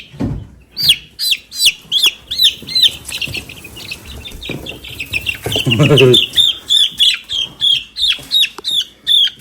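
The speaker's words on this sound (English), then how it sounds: "That is a hen." Hens cluck and squawk in short repeated bursts, with some wing flapping midway; close and fairly loud.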